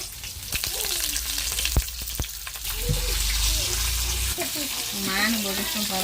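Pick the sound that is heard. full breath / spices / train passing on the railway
spices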